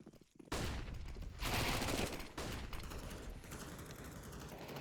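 Dense gunfire from a Counter-Strike match on the Ancient map, a sustained barrage of overlapping shots after a brief quiet start, loud and continuous throughout with only momentary dips.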